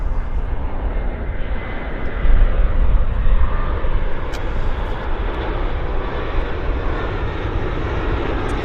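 A small Embraer jet passing at Vancouver Airport, a loud, steady broadband engine roar that swells slightly partway through and holds on, heard from nearby without speech.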